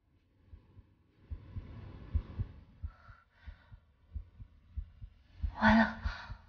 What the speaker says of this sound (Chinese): 我心跳怎么这么快？